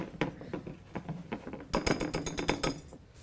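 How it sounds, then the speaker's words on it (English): Flour and baking soda being whisked together in a bowl, a quiet rapid series of clicking, scraping strokes that speed up toward the end, close by with no talk. "I'm just going to whisk these together."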